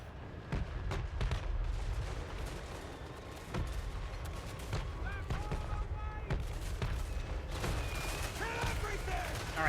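Battle gunfire from machine guns in Total War Warhammer III, sharp repeated bursts and cracks spread through a constant din of combat noise, with a voice speaking over parts of it.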